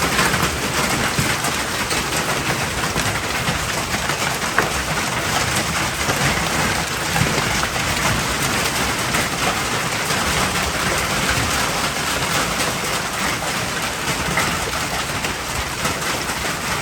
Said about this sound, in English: I actually videoed the hail coming down